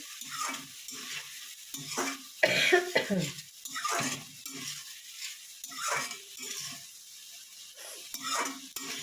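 Spice paste sizzles and fries in a pan while a utensil stirs and scrapes through it, making repeated soft scraping strokes over a constant crackle, close and moderately loud.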